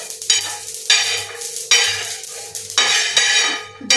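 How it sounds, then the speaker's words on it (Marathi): Sesame seeds and cumin dry-roast on a griddle pan used for chapati, with repeated stirring and scraping strokes in bursts over a soft sizzle, close and fairly loud. "त्याच्यामुळे तीळ आणि जिरा पहिल्यांदा भाजून घेतले"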